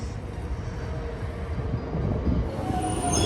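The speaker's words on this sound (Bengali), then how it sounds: "সো ট্রেন হচ্ছে ফুল প্যাকড, এর মধ্যেই ঢুকতে হবে" Crowded train pulling into a busy station platform, a low rumbling roar that swells and grows louder toward the end, with a faint high wheel squeal creeping in as it nears.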